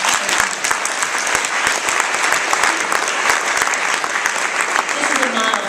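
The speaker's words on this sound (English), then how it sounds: "You can applaud that" Audience at an awards presentation breaking into applause, sharp overlapping claps forming a thick, lively wash that carries on steadily for several seconds with no pause.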